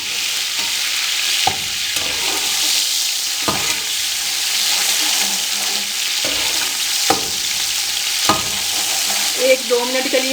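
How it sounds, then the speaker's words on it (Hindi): Chopped onions, green chilies and tomatoes fry in a pan for chicken pea pulao, a steady close sizzle broken by several sharp stirring scrapes, with no voices. "एक 2 मिनट के लिए इनको अच्छी तरह भून लें।"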